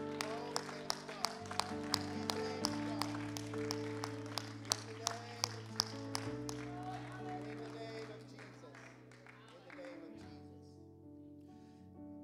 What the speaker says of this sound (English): let's lift a hand clap of victory up to the Lord